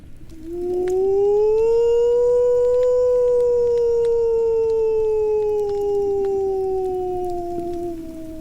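A man, a former hunter in Mongolia, imitates a wolf howl: one loud, close, sustained tone that rises, holds and slowly sinks over several seconds.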